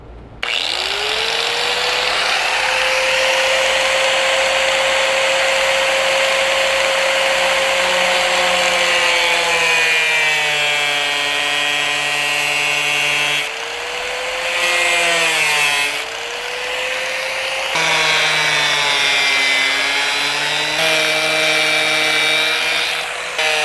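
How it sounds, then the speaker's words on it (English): An angle grinder cuts a window opening into the metal body of a Sprinter van, giving a loud, continuous high-pitched whine that shifts in pitch as the disc loads and frees up, with short breaks in the cutting. "I'm going to be using the angle grinder to make the entire cut."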